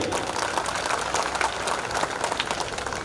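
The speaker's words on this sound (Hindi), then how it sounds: "जोरदार तालियां हो जाए इनके लिए।" Applause from the audience at an Independence Day celebration in a residential community, a steady, close wash of many hands clapping throughout, with no voices over it.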